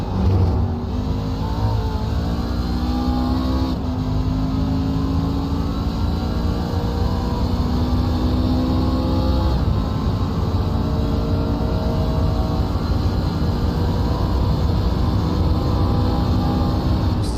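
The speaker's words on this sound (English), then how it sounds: "He looks like he's able to put the power down pretty hard, sliding a little bit, gets right back on the throttle." Race car engine in a racing simulator game on the Daytona road course, droning loud and steady with rising revs and gear shifts as it accelerates, no voices present.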